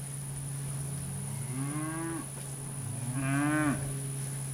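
Cattle at an Alabama ranch sale give two separate rising moos, each about a second long and moderately near, over a steady background hum with no talking.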